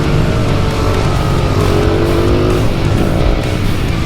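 A mini bike racing alongside two Yamaha FZ motorcycles across a parking lot, engines roaring loud and steady throughout, with dense broadband revving and a faint tire squeal edge, no talk.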